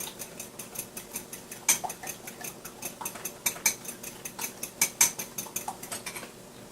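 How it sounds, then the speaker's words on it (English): An egg beaten with a fork in a bowl: a quick run of light, rhythmic clinks and taps against the dish, close by and steady with a few sharper hits, no talking. "I'm going to just beat my egg"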